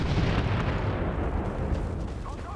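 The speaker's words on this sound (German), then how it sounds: "Ich hab gerade die Granate gegen das Raumschiff geworfen, die Granate ist zurückgeprallt und hat mich zerstört." A grenade goes off in Star Wars Battlefront on PS4, a loud rumbling blast that washes over the first moment and slowly trails off into a lingering roar of battle noise.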